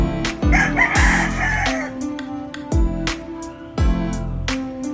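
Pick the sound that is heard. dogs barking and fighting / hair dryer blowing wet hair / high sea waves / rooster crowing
rooster crowing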